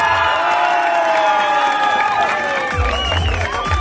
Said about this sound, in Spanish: Aplausos por nuestra reina del centro